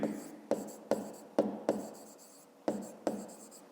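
Pen writing by hand during a fifth-grade maths exercise, a series of sharp strokes and taps, seven distinct attacks each followed by scratching that fades, close and fairly quiet, with no talking.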